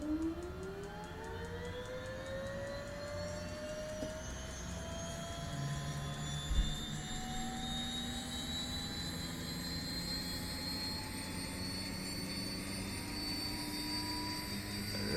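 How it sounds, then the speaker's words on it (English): A Beechcraft Duke turboprop engine spooling up in a flight simulator, a steady rising whine climbing through several tones over a low rumble, continuous and fairly loud throughout. "And then start the starter."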